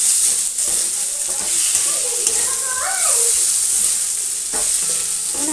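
Chicken pieces with green chili fry in a hot pan while being stirred, giving a loud, constant sizzle broken by scraping strokes of the spatula; a voice may be briefly audible under the frying.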